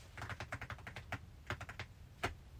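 Fingers drum on a surface in quick tapping runs that sound much like typing on a keyboard, with a brief pause between bursts, close by and faint, no voices.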